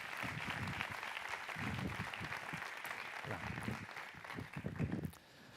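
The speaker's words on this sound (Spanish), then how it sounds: "Así que démosle un fuerte aplauso a José Carmena" Audience applause for a speaker at a summit, sustained dense clapping throughout that fades slightly near the end, with no talk over it.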